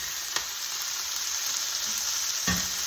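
Brussels sprouts drop into a hot pan and sizzle loudly and steadily, with a couple of sharp clatters as they land.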